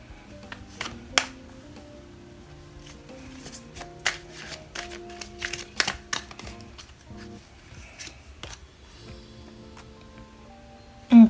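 Tarot cards are handled and shuffled up close: soft riffles, slides and scattered light taps come in quiet, irregular bursts, ending with a sharper knock.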